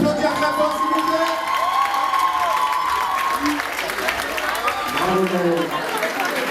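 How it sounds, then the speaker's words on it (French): Crowd at a Miss Cap-Vert France pageant applauding and cheering loudly and continuously for a runner-up contestant, with whoops and shouts layered over the clapping and an announcer's voice heard through it. "On peut l'applaudir très fort s'il vous plaît."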